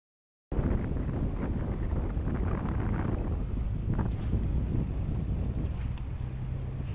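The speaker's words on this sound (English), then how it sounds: "Tough with this wind, keeps blowing everything around." Steady wind buffets the microphone while fly fishing in the Sierras, a continuous roaring rush with low rumbling gusts that starts abruptly and carries on unbroken, with no talk.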